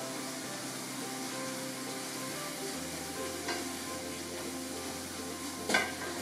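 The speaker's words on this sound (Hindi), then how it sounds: "इसको हम अच्छे से मिक्स कर लेंगे" Cumin seeds and dry coriander sizzle steadily in a hot pan, a constant frying hiss with a couple of brief metallic stirring clinks near the end.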